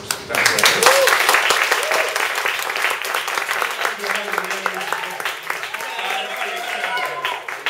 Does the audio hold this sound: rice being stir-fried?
no